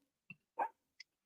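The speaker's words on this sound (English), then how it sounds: "Sorry about the dogs barking." Dogs bark during a live evening show, a few quick, distant barks and yips heard faint and alone, set apart by short pauses.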